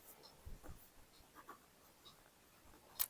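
Faint, scattered scratches and taps come from writing on a board during a class 12 physics lesson on refraction through a prism, with a sharper knock near the end in a quiet room.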